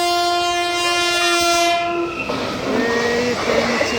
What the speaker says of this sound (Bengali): এই ট্রেন আসছে।